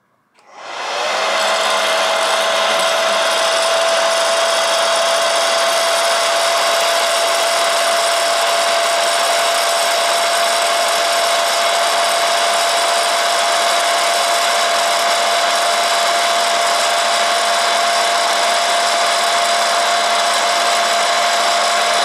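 A mini popcorn machine switches on and runs with a loud, steady blowing whir and a faint tonal whine, continuous and close with no talking.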